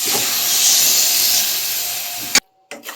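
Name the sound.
boiled cabbage added to hot spices in a pan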